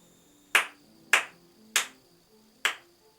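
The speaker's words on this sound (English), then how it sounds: "Clap for me a blue rhythm" Four sharp hand claps spaced about half a second apart in a steady, slightly uneven rhythm, close and clear over a quiet room during a piano lesson.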